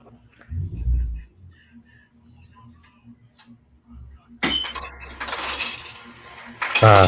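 Quiet room with faint ticks, then loud clattering of dishes and cutlery in a kitchen starting midway, a busy jumble of clinks and bangs nearby.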